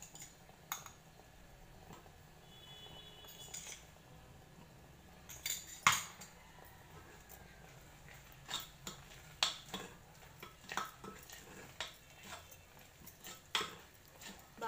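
A spoon stirs ground pepper and cumin powder through a pan, giving quiet, irregular metallic clinks and taps against the pan with soft scraping between them.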